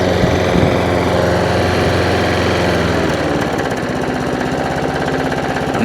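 A lawn mower engine sounds loud and close throughout. It gives a busy, knocking mechanical chatter that settles into a steady idle near the end, with no talking.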